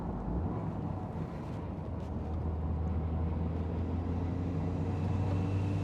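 A turbocharged Mazda Miata NC drives up mountain hairpins with a steady, low engine drone and road rumble heard from inside the cabin, pulling smoothly at low revs with a faint whoosh of wind.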